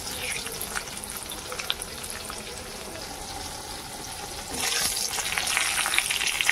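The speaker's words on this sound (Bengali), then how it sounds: "লঙ্কাগুলো তো ভাজা হোক ভালো করে" Dried red chillies fry in oil, giving a continuous crackling sizzle that swells noticeably louder and brighter partway through, heard close with no talking.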